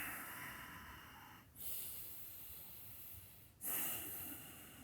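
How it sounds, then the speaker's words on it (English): Two slow, audible exhales through the nose during a morning yoga flow, soft breathy rushes close to the mic, each swelling suddenly then tapering off under quiet room tone. "Use your exhale and breathe"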